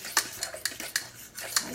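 A metal spoon clinks and scrapes against a bowl while batter with coconut cooking oil is mixed, a series of sharp, close, irregular taps.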